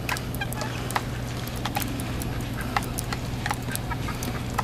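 Chickens, one sitting on eggs, cluck and scratch in short scattered bursts on a gray, snowy day, moderately close with a low steady hum underneath.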